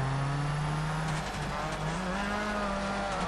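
Rally cars racing in Colin McRae Dirt, with a Mitsubishi and a Subaru on track: a steady, loud engine drone whose pitch dips and then climbs again as the car accelerates, running throughout.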